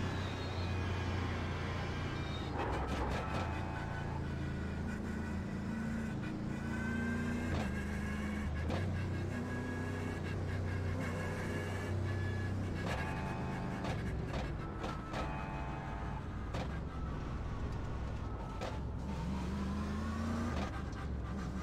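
A Mercedes GT3 race car at Monza in the iRacing sim, its engine droning steadily throughout with repeated rises and falls in pitch through gear changes, loud and continuous.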